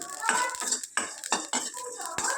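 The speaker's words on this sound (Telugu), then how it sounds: "కొంచెం అంటే కొంచెం మెంతులు ఒక స్పూన్ ధనియాలు ఇవి వేయించుకోవాలి" Fenugreek seeds and coriander seeds are dry-roasted in a pan while a spoon scrapes and clinks against the metal in quick, uneven strokes, close by, with only a faint sizzle beneath.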